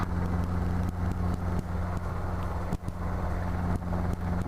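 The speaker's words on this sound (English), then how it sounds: "just step out of the way for a second and let the fuel truck come by" On an airfield, a fuel truck rumbles close by, a steady low vehicle drone with faint repeated clicks and knocks over it.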